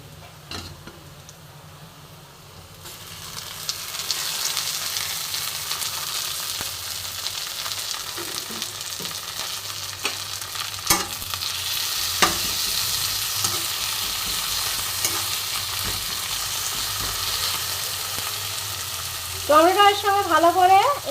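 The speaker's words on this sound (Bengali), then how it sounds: "বন্ধুরা দেখো, আমি পেঁয়াজটা সুন্দর লাল করে ভেজে নিয়েছি। এবার আমি কুচিয়ে রাখা টমেটোটা এর মধ্যে দিয়ে দেব।" Browned onions sizzle steadily in a hot pan, then chopped tomato goes in and the frying hiss swells into a loud, close crackle, with a brief stirring scrape near the end.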